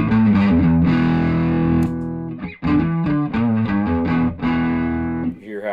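Distorted electric guitar driven through a TightBoost pedal with its tight control turned down low, ringing chords and short picked phrases up close, with loose, full low end and a few pauses between hits.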